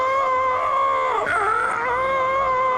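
Loud, sustained, high screams from an episode of the animated cartoon Animals of Farthing Wood rise and dip and overlap for a moment, standing out strongly.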